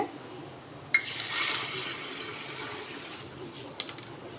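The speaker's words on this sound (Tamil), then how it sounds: "தண்ணி ஊற்றி ரெண்டு மூணு தான் நல்லா அலசிடுங்க" Water pours into a bowl and swishes as lentils are rinsed, starting abruptly after a clunk, with a few clinks near the end.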